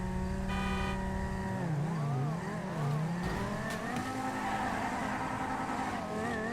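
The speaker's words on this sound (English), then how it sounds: "There was a downshift there." Simulated car engine from the video game GTA V, a Banshee with upgrades, downshifting: sweeping harmonic revs rise and dip repeatedly as gears drop, loud and continuous with no talking.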